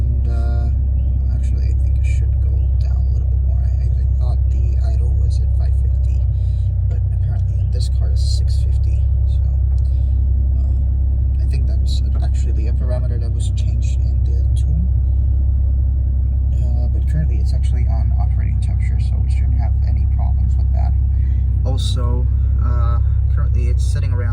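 A car engine idles at about 650 RPM on NGK Ruthenium spark plugs, with a modified exhaust, making a loud, steady low rumble that stays constant throughout while a person talks over it.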